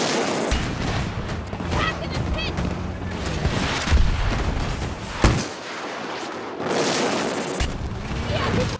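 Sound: gunfire from video game Battlefield 2042

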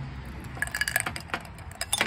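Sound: ice being put into a cocktail glass

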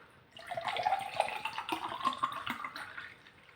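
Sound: pouring BUVETTE white tea drink

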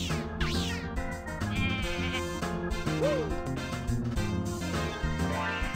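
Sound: sheep bleating in a video game

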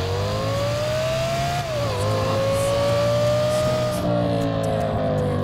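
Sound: Alfa Romeo Stelvio car engine roaring in GTA 5 video game

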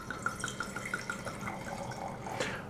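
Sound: wine being poured into a glass

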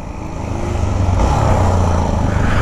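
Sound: motorcycle accelerating, releasing clutch slowly

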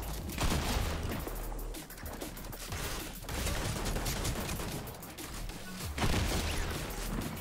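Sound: dynamite exploding in Fortnite video game

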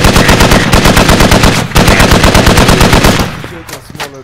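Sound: 50 cal machine gun fire in Squad video game

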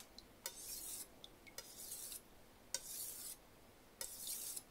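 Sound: sharpening strokes on a blade edge to raise a burr

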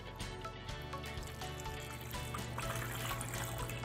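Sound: green liquid poured in and fizzing

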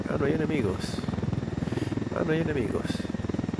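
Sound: helicopter in video game Ghost Recon Wildlands

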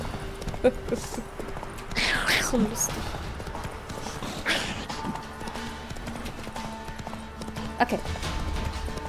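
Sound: horse hooves while riding, from video game The Witcher 3

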